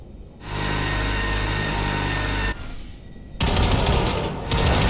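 Loud, continuous automatic gunfire at a shooting range in Cyberpunk 2077, sustained bursts with a brief dip before a harsher, heavier volley resumes, with no talking.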